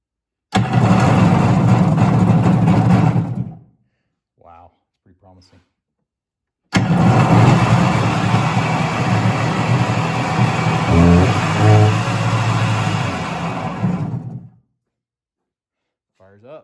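A Kawasaki JS 440 stand-up jetski engine is cranked over twice at close range, two sustained loud bursts of sputtering, churning engine noise, the second one longer, with brief quiet gaps between them.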